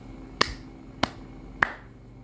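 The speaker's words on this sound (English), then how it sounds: "As neutral stimulus, let's clap 3 times." Three crisp, evenly spaced sharp snaps or claps ring out alone in a quiet classroom, each a single bright crack about half a second apart.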